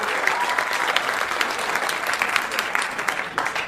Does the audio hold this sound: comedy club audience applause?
yes